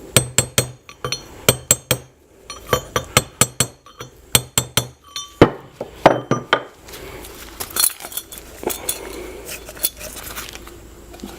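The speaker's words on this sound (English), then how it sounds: "So when you get your brass punch, you're just going to want to give it a couple taps." A brass punch tapped with a hammer while seating a 14 bolt axle hub bearing, giving bright metallic clinks in quick clusters of several taps, close and loud, with scraping handling noise afterward.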